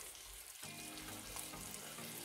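A vegetarian patty fries in an oiled pan, a continuous crackling sizzle at fairly low level that briefly dips, then picks back up, with no talking.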